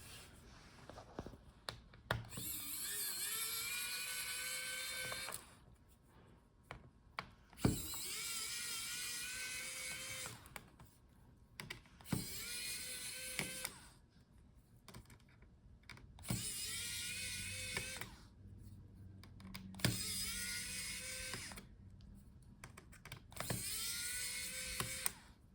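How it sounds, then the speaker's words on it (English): A power screwdriver whirs repeatedly while removing motherboard screws from a Lenovo Yoga 7 14IML9 laptop, close, rising whines in several separate bursts with short quiet gaps between them. "now we can unscrew our motherboard"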